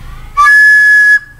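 A recorder with a finger hole left uncovered lets out a single shrill, piercing squeak that holds steady for under a second, loud and close against quiet background hum.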